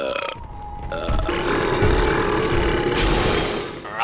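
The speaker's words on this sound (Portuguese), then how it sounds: "dar um super arroto, porque só o Homer sabe" Homer Simpson lets out a super burp in the LEGO Dimensions video game, a long, loud, rumbling belch mixed with a crashing, shattering noise that fills about four seconds.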